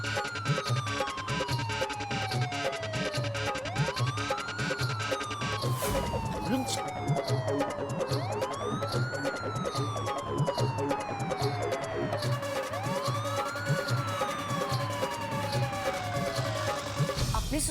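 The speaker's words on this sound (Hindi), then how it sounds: "अपनी सोसाइटी में एम्बुलेंस?" An ambulance siren wails in a repeating rising-and-falling sweep, loud and steady across a residential housing society, with a dense background hum beneath it.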